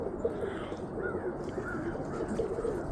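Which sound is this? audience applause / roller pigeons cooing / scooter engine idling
roller pigeons cooing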